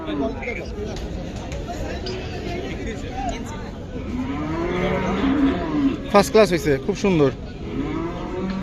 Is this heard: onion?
no